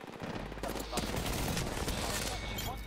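Sustained burst of gunfire in the Apex Legends battle royale shooter, rapid overlapping shots rattling continuously at steady loudness, with a player's voice talking over parts of it.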